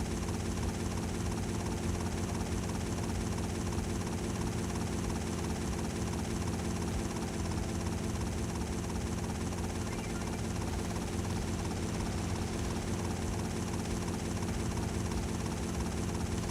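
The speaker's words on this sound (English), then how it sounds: "if you like the helicopter sound so much" Helicopter in GTA Vice City Stories flying steadily, with a continuous loud rotor thrum and engine drone that holds unbroken throughout.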